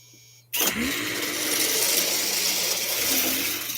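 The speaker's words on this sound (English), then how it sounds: "There's a pickup truck hitting the finish line." A pickup truck roars down a drag strip at a test-and-tune event, its engine bursting in abruptly after a quiet moment and then holding a loud, sustained, broadband howl as it accelerates away.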